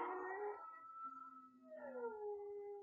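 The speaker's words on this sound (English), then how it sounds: "And then we got the Howl emote." A wolf howl emote from the video game Fortnite: two clear, rising-then-falling howls with a quieter sustained tone between them, heard alone.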